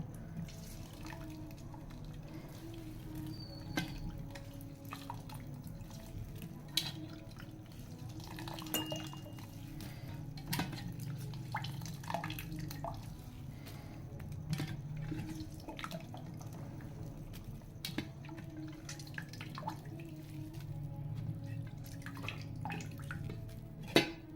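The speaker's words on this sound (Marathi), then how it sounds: "असं पाण्यातून पूर्ण पाणी काढून घ्यायचं आहे" Water being drained off soaked soybeans in a kitchen, a faint, steady trickle with scattered small drips and splashes, heard close and quiet with no talking.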